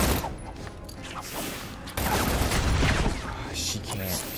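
Rapid gunfire bursts from Batman: Arkham City, dense and continuous over game noise, growing louder midway, with a voice talking excitedly over it.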